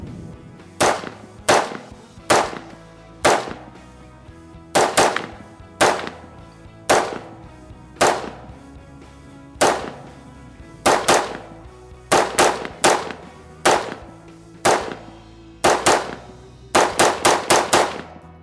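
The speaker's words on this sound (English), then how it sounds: "we took 25 shots with the MSR" About two dozen loud, sharp MSR rifle shots fired outdoors during a shooting session, singly at uneven intervals and then in quicker clusters near the end, each with a short ringing tail.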